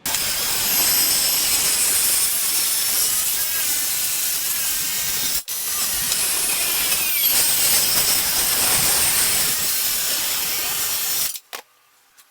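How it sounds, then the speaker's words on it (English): A saw rips side tapers along a long wooden board, a loud steady rasping cut that runs almost continuously, pauses briefly once midway, then resumes before stopping near the end. "Now we're going to cut the side tapers from 6 to about 3 inches."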